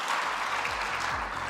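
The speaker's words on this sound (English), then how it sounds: "could you please give our wonderful panel a nice big round of applause?" Audience applause for a panel at a tourism and aviation podcast event, a steady clatter of clapping running through the short stretch at moderate level, with low hum beneath.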